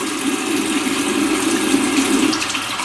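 Tap water runs steadily into a sink while soap is rinsed off a face brush, a loud, continuous close-up rush with no talking.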